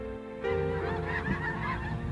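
Geese honk and call nearby, a chorus of overlapping harsh honks rising after a brief quieter start and continuing steadily, with no voices.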